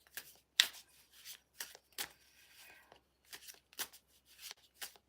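Tarot and angel cards are drawn from a deck, giving soft, scattered flicks and slides that come in short separate bursts, close and fairly quiet.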